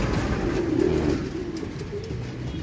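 A racing pigeon at the home loft after a 70 km race, soft cooing from pigeons close by over outdoor background noise, with no talk.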